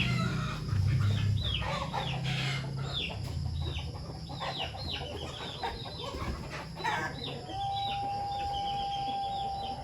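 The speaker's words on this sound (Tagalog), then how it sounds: "Ang gulo-gulo ng manok. Magulo na ang mga manok." Several chickens cluck and squawk noisily all at once, close by, with rapid overlapping calls and a low hum underneath.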